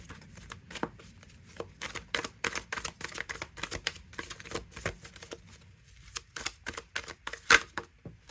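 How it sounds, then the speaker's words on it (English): Tarot Moodie cards shuffled by hand in a quick run of crisp riffling flicks and taps, close and moderately loud, with a brief rustle of card stock between bursts and no talking. "Let me try actually shuffling from this side"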